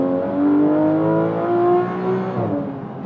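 Porsche 911 GT3 RS, a 991-generation car with a naturally aspirated flat-six, revving loud and close with a rising high-pitched howl, then easing off toward the end.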